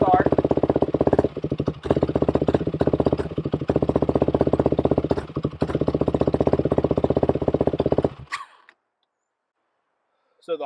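A YFZ 478 ATV engine with a hot start idles steadily at a fast, even, slightly raised pitch, then cuts off abruptly, leaving near silence and a faint final rustle.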